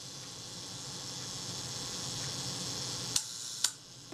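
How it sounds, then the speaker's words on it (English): The self-timer of a Retina Reflex III camera buzzes steadily and softly for about three seconds, then the shutter fires with two crisp mechanical clicks close to the microphone. "cock this self-timer and see what happens"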